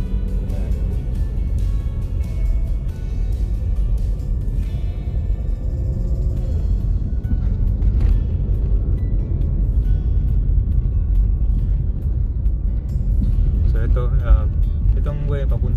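Traffic on a main road near Upper McKinley, a steady low rumble of cars passing throughout, with a person talking over it.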